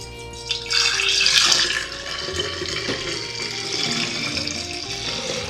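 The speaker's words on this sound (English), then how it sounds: "Then we're gonna pour it into our jar." Elderberry syrup poured through a funnel into a quart-sized glass jar, a steady liquid stream that swells early and then runs on evenly, close by with no talking.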